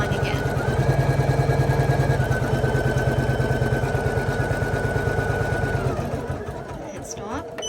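An embroidery machine stitches an outline with a loud, rapid, steady mechanical hammering close by, running for about six seconds before slowing and stopping.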